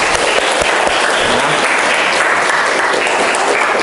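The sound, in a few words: classroom applause for a student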